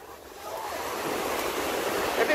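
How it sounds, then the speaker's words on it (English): Small ocean waves wash in on a Gulf beach at Pensacola Beach, Florida, a soft continuous surf hiss that swells slightly louder over a couple of seconds, with no voices. "Little waves."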